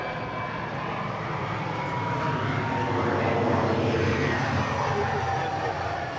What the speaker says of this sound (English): Plane pause.